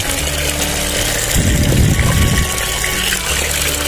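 Tap water pours steadily into a container while preparing fermented rice bran chicken feed, a continuous gushing rush that swells for about a second in the middle over a low mechanical hum.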